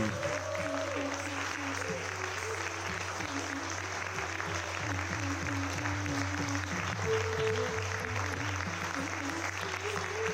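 Applause for dancers at an International Dance Day festival, a soft continuous patter of clapping from a sizeable audience under a steady low hum, with a murmur of voices mixed in.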